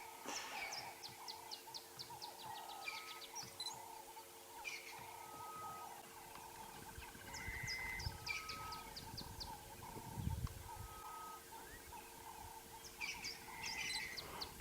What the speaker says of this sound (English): We've got ring-necked doves going prop, prop, prop, prop.